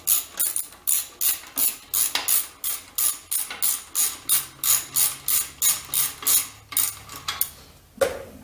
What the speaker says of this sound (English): I'm gonna go ahead and put this bolt back in.